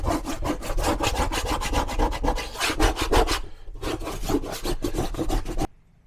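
A razor knife and a putty knife scrape old tile and adhesive off an RV kitchen wall, making loud, close, rhythmic back-and-forth strokes that pause briefly and then stop abruptly.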